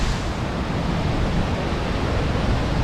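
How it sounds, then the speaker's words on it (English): Nearby waterfalls in a thermal park canyon in France, a dense, steady broadband rush of falling water, loud and continuous with no other sounds on top. "because you're right next to these beautiful waterfalls."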